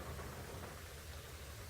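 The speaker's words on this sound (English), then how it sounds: "even though it's raining right now" Rain falls steadily in a soft, even hiss that stays faint and constant throughout, with no other sounds.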